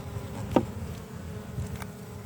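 Honey bees handled during work on a cluster hive being moved into a nuc box buzz faintly and steadily, with a couple of brief louder passes near the microphone.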